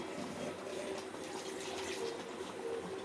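Tomato-boiling water is poured into a cooking pan for ginger chicken, making a steady, continuous splashing gush that stays even and fairly soft throughout.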